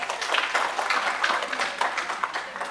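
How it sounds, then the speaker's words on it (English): Audience applause at a Sunday satsang, a dense, steady wash of many hands clapping continuously and fairly close. "Give yourselves a round of applause."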